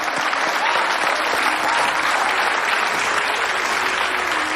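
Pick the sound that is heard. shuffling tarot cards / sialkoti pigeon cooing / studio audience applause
studio audience applause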